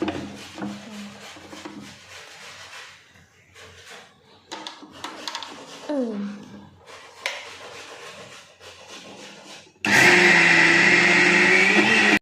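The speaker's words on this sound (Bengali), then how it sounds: "মিক্সারের মধ্যে বসিয়ে দিলাম।" Soaked dal is ground in an electric mixer grinder for ash gourd bori. Quiet lid and jar handling knocks come first, then the motor kicks in with a loud, steady whirring roar for the last few seconds.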